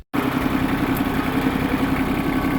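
A tractor engine idling steadily, a low continuous rumble with an even throb, close by and fairly loud, no voices.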